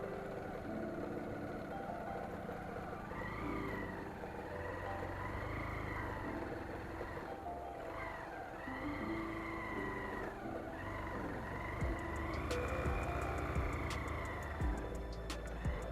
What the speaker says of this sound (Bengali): বাইক নিয়ে যতটা সম্ভব উঠছি ওপরে